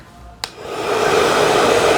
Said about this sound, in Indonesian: Mending pakai hair dryer ini aja. Anginnya udah super kenceng, ada di dua mode kecepatan.